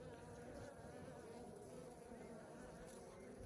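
Steady, dense buzzing of many honeybees, a continuous hum close by with no pauses, fairly quiet overall.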